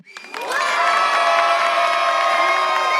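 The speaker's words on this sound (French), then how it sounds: "montrer que vous appréciez les propositions qu'ils vont nous faire avec les meilleurs cris et applaudissements que vous avez en réserve" An audience erupts in loud cheering, shouts and whoops mixed with applause, rising quickly after a brief quiet start and holding at full volume.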